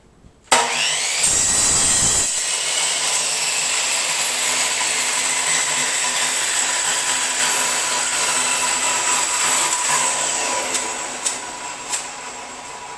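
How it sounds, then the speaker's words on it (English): A power saw spins up abruptly and cuts through a body tube coupler with a loud, steady whine that holds for about ten seconds, then tapers off, followed by a few sharp clicks. "We'll cut this with a saw real quick."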